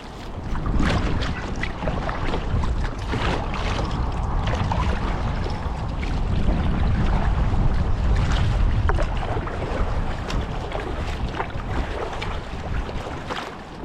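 Gusting wind buffeting the microphone on the North Sea off Cleethorpes, a constant roar that swells in the middle, with faint splashes and knocks of an inflatable kayak.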